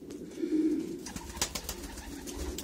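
Pigeons in a large loft box at a breeding facility coo in low, soft repeated calls up close, with faint rustling and shuffling around them.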